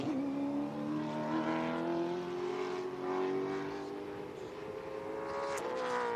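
A stock car in IHRA Stock Car Series qualifying at Cordele Speedway roars past alone, its engine tone climbing and held steady at high revs, loud and close, with faint commentary underneath.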